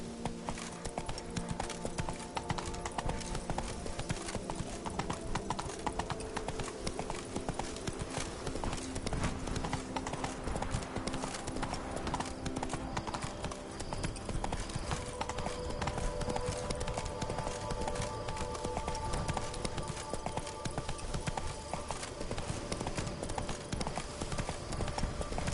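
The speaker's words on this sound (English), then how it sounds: "Run, Roach." A horse gallops in The Witcher 3 with a fast, steady clatter of hooves that stays loud and close throughout, together with game sounds.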